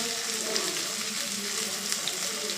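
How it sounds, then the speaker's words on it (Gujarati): Okra sizzling in hot oil in a pan while being stirred, a steady close hiss with faint scraping and no talk. "પછી તેની અંદર ભીંડા પણ નાખી દઈશું. એ રીતે હલાવી લઈશું."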